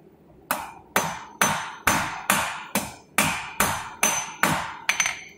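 A blacksmith flattens hot metal on an anvil while forging a medallion-head hook, about ten evenly spaced ringing hammer blows, loud and close, each with a bright metallic ring and short decay.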